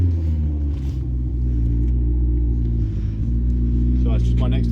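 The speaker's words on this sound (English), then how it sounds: "it's just my next door neighbour and his McLaren" A neighbour's McLaren sports car rumbles nearby with a deep, steady engine drone and a slight surge in pitch, lasting the whole time and joined near the end by faint voice-like sounds.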